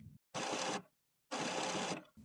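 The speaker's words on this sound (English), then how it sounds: "Listen for the paper pick rollers. You should be able to hear them rotating." An HP printer's paper pick rollers whir in two mechanical bursts of under a second each, separated by a brief silence, close and fairly loud with no talking.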